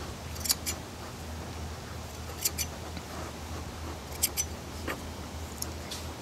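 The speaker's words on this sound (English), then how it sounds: "Once I put mineral oil on it, and then I trim the ends off." Scissors trim the ends of sheep fleece for show prep, making a few sharp, quiet snips in small clusters over a soft background hush.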